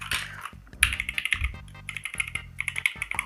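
Someone types steadily on a Dierya DK61E 60% mechanical keyboard fitted with brown switches, producing rapid, close, clacky keystrokes in an uneven rhythm with no talking.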